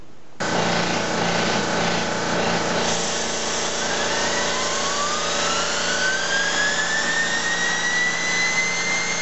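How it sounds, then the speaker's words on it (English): A compressor starts up to drive a steam turbine: a sudden loud onset into a steady, dense mechanical roar with a whining tone that climbs in pitch as it speeds up, continuous and close. "You're going to hear a lot of noise now because the compressor is going to be switched on."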